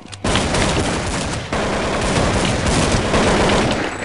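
Rapid gunfire in Counter-Strike 1.6: dense, loud bursts of shots crackle almost continuously, with a brief break near the start and another around the middle.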